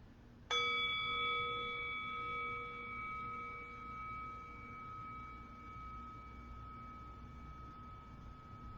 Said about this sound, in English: Allowing the sound of the bell to be an invitation within.